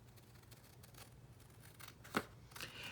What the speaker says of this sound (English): I'm going to do it all with scissors today